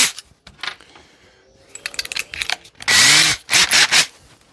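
A power drill countersinks a hole in a wooden shelf board, giving short whirring bursts and scraping bites into the wood, ending in a loud sustained grind and a couple of further bursts, close and alone.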